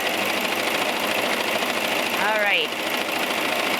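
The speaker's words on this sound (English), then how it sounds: "I can stitch from one piece of fabric to the next with this double cover stitch." A cover stitch sewing machine runs steadily, sewing a double cover stitch across gray thread on yellow fabric, with a continuous whirring hum throughout. A person speaks briefly over it.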